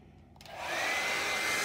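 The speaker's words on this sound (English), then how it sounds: "Blow dryer." A blow dryer switches on over acrylic pour paint, rising quickly from quiet to a steady, loud airy whoosh that holds to the end.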